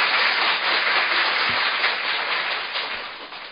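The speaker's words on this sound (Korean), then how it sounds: "다시 한번 우리 학교 영양사의 든든한 지원자이신 우리 의원님께 큰 박수 부탁드립니다." An audience at the opening ceremony of a school dietitians' meeting applauds a lawmaker with dense, continuous clapping that fills the room and tapers slightly toward the end.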